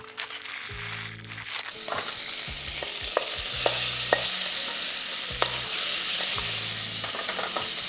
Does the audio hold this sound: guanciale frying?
yes